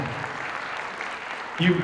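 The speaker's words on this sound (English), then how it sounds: "Give him a hand." Awards-ceremony audience applauding, a steady wash of clapping that swells slightly near the end, with a voice speaking over it.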